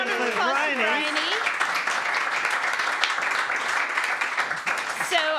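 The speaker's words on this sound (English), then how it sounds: "Can we give a round of applause for Bryony?" Audience applause for Bryony, a steady, fairly loud round of crowd clapping that carries through, with a voice talking briefly at the start and again at the end.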